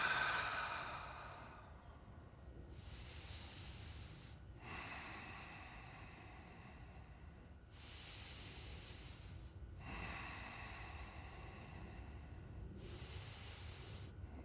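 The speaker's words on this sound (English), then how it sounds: "and breathe" Slow, deliberate breaths from a person holding a standing balance exercise, about four long inhale-exhale cycles, airy and close-miked, alone in a quiet room.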